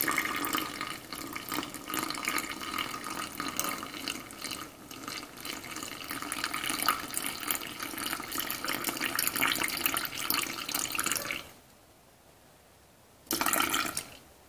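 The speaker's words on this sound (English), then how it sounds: "And now we are going to take this up to 450 with water. This is warm water" Warm water from an RO system runs steadily into a sourdough starter, a continuous close pouring stream that stops abruptly, falls quiet, then briefly resumes for a final splash.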